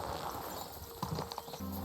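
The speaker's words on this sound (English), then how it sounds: "Let's take the horse." Horse hooves in the medieval game Kingdom Come: Deliverance 2, a few faint clip-clop steps on ground under quiet ambient background, brief and close.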